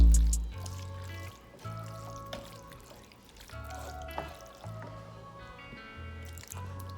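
Thick marinara sauce glugs and squishes as it is poured from a jar into a skillet, with wet drips and plops in an uneven rhythm, close and fairly quiet, with musical tones playing underneath.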